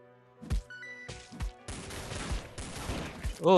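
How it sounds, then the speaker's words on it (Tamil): Continuous automatic gunfire from the zombie game Dead Ahead, loud bursts of repeated shots layered with impacts, starting as separate cracks and building into a dense fusillade. "ஷார்ட் கன் மாதிரி இல்லை, இது சுட்டுட்டே இருக்கு"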